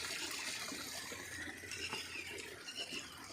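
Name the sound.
water flowing and splashing through an underground gap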